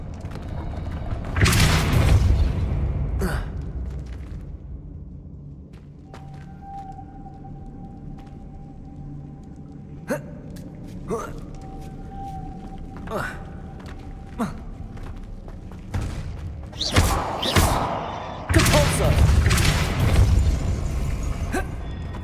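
Repeated Depulso force spells blast in Hogwarts Legacy inside the Room of Requirement, giving booming rushes of sound with deep rumbles, scattered thumps and creaking mechanisms between the louder bursts.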